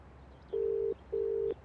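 Two steady electronic phone tones, each about 0.4 seconds long, sound separately over a quiet room background as a call goes through on a telephone.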